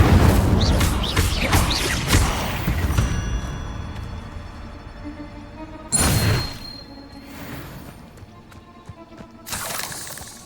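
Fire spell cast in the video game Hogwarts Legacy, several sharp bursts with whooshing flame, one loud impact in the middle and another near the end, over busy combat noise.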